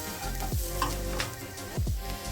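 Spices with salt and sambar powder are stirred in a pan, giving a soft, low sizzle with a few distinct scraping strokes.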